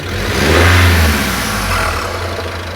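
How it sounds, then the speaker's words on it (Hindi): A car engine revs hard and close as the car breaks down on a lonely road, surging in the first second and then settling into a rough, steady drone with no talk over it. "जैसे ही वो कुछ आगे जाता है तो उसकी गाड़ी खराब हो जाती है।"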